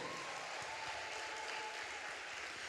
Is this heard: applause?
yes